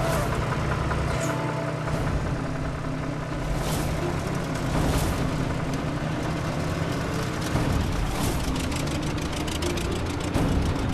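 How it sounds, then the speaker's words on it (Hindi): A tractor engine runs steadily in a field, a constant low rumble filling the whole stretch with no pauses or talking. "ट्रैक्टर रोकिए।"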